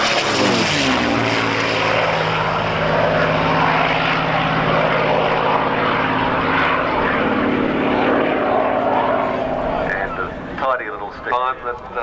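A historic propeller aircraft flies past at an air show at Matamata Airfield, its engine a loud, sustained drone that rises and fades, while a commentator talks over it.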